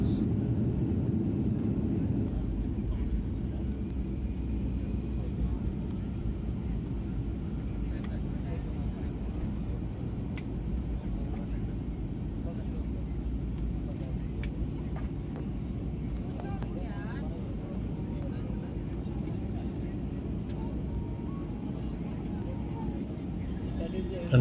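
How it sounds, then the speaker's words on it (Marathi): Airliner taxiing on the taxiway toward the terminal at Tirupati Airport after touchdown, a steady loud low engine rumble and cabin drone throughout, with faint intermittent clicks and no clear talk. "रनवे सोडून आता विमान टॅक्सीवेवरून इमारतीकडे घेऊन जाईल."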